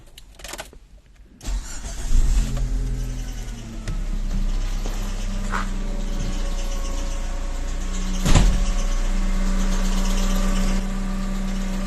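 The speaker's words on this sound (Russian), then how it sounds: "Теперь заводим двигатель и посмотрим на показатели." A Chery QQ engine cranks briefly, catches and starts, then settles into a steady idle after an alternator replacement; a click and brief whir sound partway through.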